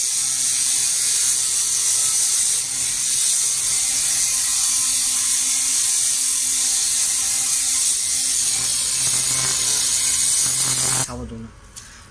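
A handheld pulsed fiber laser cleaning machine runs steadily with a dense, buzzing high-pitched hiss and a faint rattling whir, loud and continuous for about eleven seconds before cutting off abruptly.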